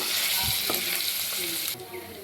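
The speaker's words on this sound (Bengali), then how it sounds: "পনিরগুলোকে আমি উল্টে পাল্টে লাল লাল করে ভেজে নেব।" Paneer cubes fry in salted mustard oil in a pan for shorse paneer, producing a loud, steady sizzle with a brief stir and clatter before the hiss suddenly drops in level.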